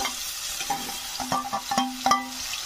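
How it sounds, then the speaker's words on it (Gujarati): Chopped onions, tomatoes and chillies with curry leaves sautéing in a pan, a close steady sizzle broken by several quick clinks and scrapes of a spoon stirring against the metal. "સાથે સમારેલા કાંદા, ટામેટા અને મરચાં ઉમેરી દઈશું"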